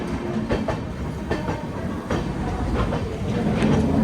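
The Sairang Rajdhani Express rolls along the rails in first AC, a loud continuous rumble with rhythmic clickety-clack of wheels over joints, no voices.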